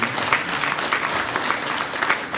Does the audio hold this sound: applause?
yes